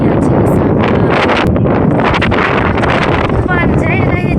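Strong wind buffets the microphone in an open chili field during transplanting, a loud steady roar with rustling gusts that fills the whole stretch, while people talk over it.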